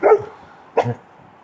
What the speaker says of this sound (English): This is Buddy Dog again